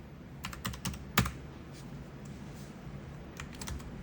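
Someone typing on a computer keyboard to name a saved ROM file, a quiet scattered run of clicky keystrokes with one sharper key press, close and alone.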